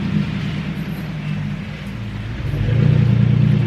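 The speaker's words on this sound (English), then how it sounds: "It's backing down this street, and now this truck is coming down there" A furniture truck driving down a street, a steady low engine rumble nearby that swells louder toward the end, with no talking.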